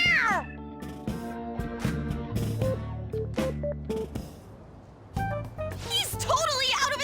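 A cat meows several times in the video game Persona 5 Royal, with rising and falling cries near the start and end, mixed over game music and character voices.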